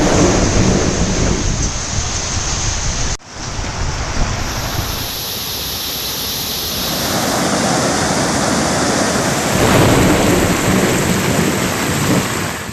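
Heavy downpour hammers down steadily in a dense, broadband roar during a stormy spell, with a sharp break near the third second and deep rumbling thunder swelling beneath the constant rain toward the end; no voices are heard.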